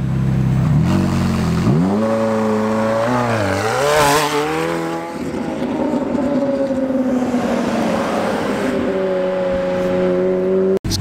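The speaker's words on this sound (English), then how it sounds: "If you own a McLaren, this is what you want it to sound like." A McLaren engine revs hard and loud up close, pitch sweeping up and down through several throttle blips before settling into a steady high drone, with a sharp pop at the very end.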